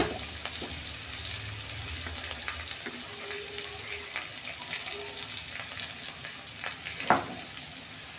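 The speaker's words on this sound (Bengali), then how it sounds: "এই যে আমি মশলাটা ভেজে নিয়েছি" Garlic, ginger and coriander seeds frying in hot oil in a home kitchen, a steady close sizzle with occasional stirring clinks and a sharp knock near the end.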